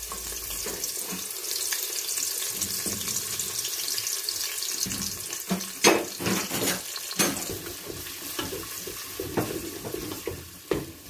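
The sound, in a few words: onions frying in hot cooking oil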